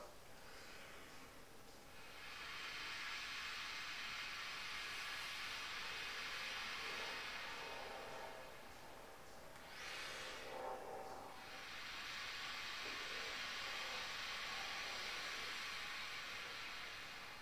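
A long steady hiss of breath pushed through the teeth, held for several seconds, briefly dipping in the middle before resuming, with no talking.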